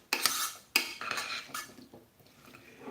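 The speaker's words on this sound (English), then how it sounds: "You stir it like this. You stir together. Fresh yogurt." A spoon stirs fresh yogurt in a bowl, making close, quick scraping clinks that come in bursts and then settle into softer swirling.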